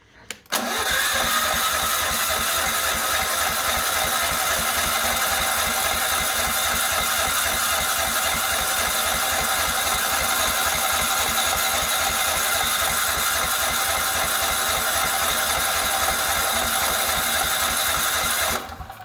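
A Ridgid 6800W generator starting from cold, a loud steady engine drone that begins abruptly and runs continuously with a rapid rhythmic pulse, close up, then eases at the end.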